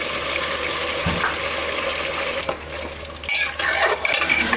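A karahi pan being rinsed and topped up with a little water while cooking beef tehari, with steady sizzling and hissing, a few metal knocks of pan and utensil, and a louder splashing rush of water near the end.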